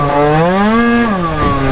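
Tuned 50cc scooter engine revving hard and close, a loud rising whine that peaks near one second and then dips briefly before climbing again, with no voices.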